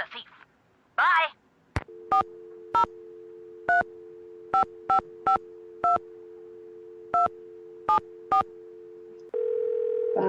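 In the Nancy Drew game Wolf of Icicle Creek, a steady telephone dial tone hums while a string of touch-tone keypad beeps punch in a number, preceded by brief voice snippets and ending in a changed line tone.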